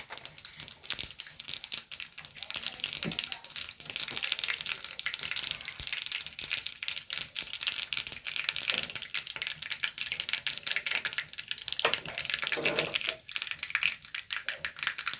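Mustard seeds splutter and crackle in hot coconut oil, a dense continuous popping and sputtering, close and steady throughout.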